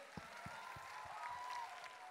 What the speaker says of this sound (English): Can we have another round of applause for grade 11?